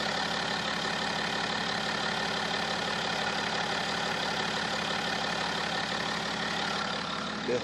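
A BMW X5's inline six-cylinder diesel engine idles steadily and evenly, a constant low rumble with a faint rhythmic clatter, heard close and alone without any voices.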